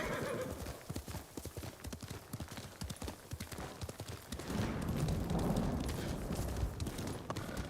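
A horse in the video game Ghost of Tsushima gallops with rapid, continuous hoofbeats, then a loud whinny rises near the end over a swelling rumble, close and prominent.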